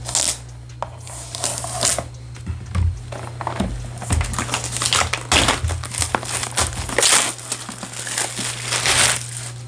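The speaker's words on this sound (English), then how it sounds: "I'm going to go ahead and cut open the box right now." Tablet box packaging for a HOTWAV R9 Ultra 5G rugged tablet being cut open, close crinkling and scraping bursts with a steady low hum beneath throughout.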